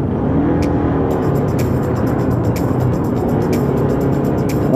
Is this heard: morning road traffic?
yes